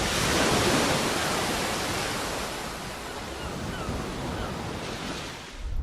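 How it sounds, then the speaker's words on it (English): Ocean waves on Earth wash in a steady, dense roar of surf, loud and close at first, easing slightly midway, then swelling again, with no voices. "Now this is how ocean waves sound here on Earth."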